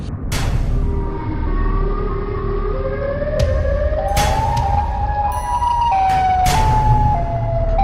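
A loud wailing siren from a Siren Head horror cartoon sweeps steadily upward in pitch and holds, with a few sharp knocks and bangs over it.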